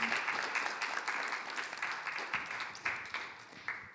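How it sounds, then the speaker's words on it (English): A conference audience applauds panelists after a panel discussion, steady mid-sized clapping throughout with a few louder bursts, fairly close and moderately loud. "Give a round of applause to our panelists."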